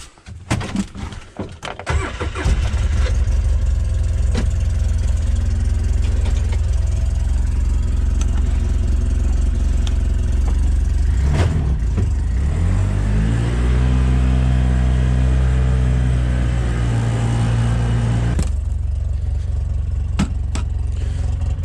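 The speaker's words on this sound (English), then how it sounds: "the only thing I have to do on the Polaris is get it fired up and get the snow off it" A Polaris utility vehicle sitting in the snow cranks and fires up, then settles into a loud, steady idle. Partway through it revs briefly before dropping back to idle, close by with no talk.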